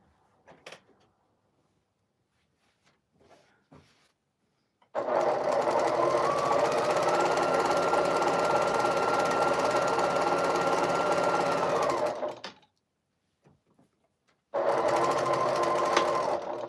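Sewing machine stitching a quilt cornerstone, a steady close whir running about seven seconds, then a pause and a second shorter burst of stitching, with only light handling noises between.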